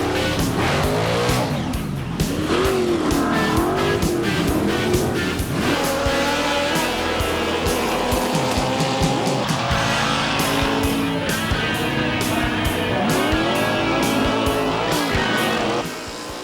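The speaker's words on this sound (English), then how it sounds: "Some race against other race cars." Race cars roar past at high revs with loud, sustained tire squeal and skidding, engines rising and falling continuously at close range.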